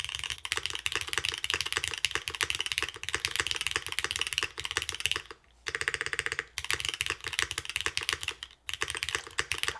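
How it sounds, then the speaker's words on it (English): Fast, steady typing on a gasket-mounted Neo75 mechanical keyboard, with crisp, muted key clacks running continuously and two brief pauses. "I know I only typed like a few seconds."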